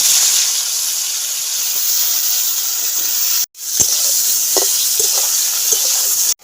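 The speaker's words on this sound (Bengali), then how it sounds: "তেল গরম হয়ে গেছে বেগুনটাকে তেলের মধ্যে দিয়ে দিচ্ছি" Eggplant slices seasoned with salt and turmeric fry in hot oil, a loud continuous sizzle and hiss with a brief break and small crackles and stirring sounds.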